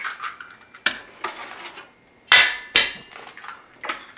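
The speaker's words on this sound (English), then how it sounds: "Then you add your 3 eggs." Eggs cracked one after another against a bowl of sugar water mixture for sticky buns. Sharp, close knocks and taps come in a short irregular series, with quiet gaps between them.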